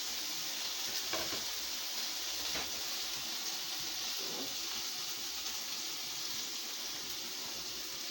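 Salmon frying in hot oil, a steady faint bright sizzle that holds evenly throughout, with a few soft clinks and shifts underneath.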